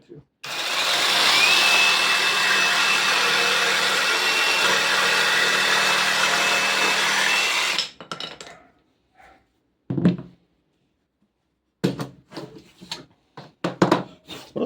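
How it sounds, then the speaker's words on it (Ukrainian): A Dnipro-M DJS-200BC cordless jigsaw cuts through 8 mm laminate at low speed in one continuous, loud buzzing run of about seven seconds, followed by quiet clicks and handling noises. "Давайте спробуємо поцілити цю рисочку, розпиляти ламінат товщиною 8 мм."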